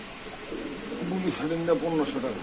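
Blue pigeons kept in cages at a bird market give soft, throaty coos that rise and fall over a couple of seconds, with murmuring voices in the background.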